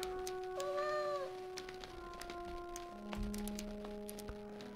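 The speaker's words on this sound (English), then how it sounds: "Cute kitty." A cat meows once in the Star Trek: Judgment Rites video game, a short rising and falling synthesized mew over steady electronic background tones and game music.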